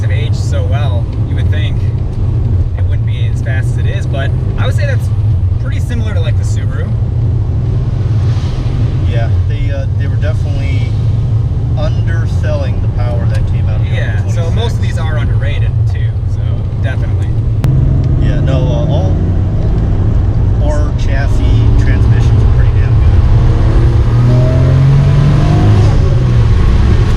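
A powerful 1992 Nissan Skyline R32 GTR Nismo N1 engine roars and revs steadily throughout, its deep rumble swelling near the end, with voices talking over it.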